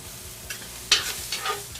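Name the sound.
food frying in a pan with onions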